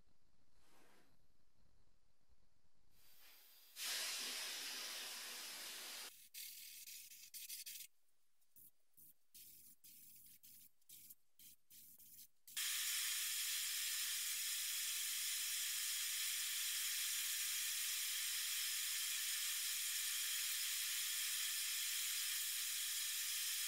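Spray gun laying the final coat of high build primer on an old metal toolbox, a steady airy hiss that starts, stops in short bursts, then runs loud and unbroken for the last ten seconds.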